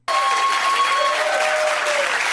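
Audience clapping, a loud, dense and steady burst of applause that starts abruptly and continues evenly, with a faint tone running underneath.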